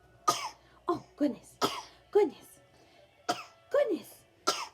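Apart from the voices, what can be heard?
cough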